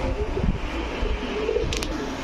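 Pigeons at a market selling high-flyer Giribaz and racer pigeons give soft, low, repeated cooing over a murmuring crowd background, fairly faint and close.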